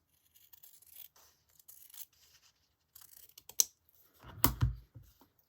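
Scrap fabric is cut with scissors into a house shape, a series of quiet close snipping and rustling strokes in short bursts, ending with a louder crisp handling noise.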